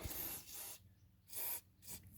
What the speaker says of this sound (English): we're going to have to spray some penetrating oil on the bolts that we need to remove